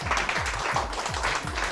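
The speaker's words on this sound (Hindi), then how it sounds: "हाउसवाइफ के लिए भी तालियां होनी चाहिए" A studio audience on a TV game show claps for a housewife guest, a short burst of dense, steady applause over a faint rhythmic low thump.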